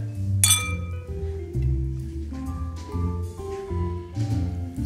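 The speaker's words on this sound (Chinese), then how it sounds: "让我们一起共同举杯，庆祝我们的友谊" Glasses clink in a toast inside a video game, one bright clink near the start over a sustained background music bed that carries on to the end.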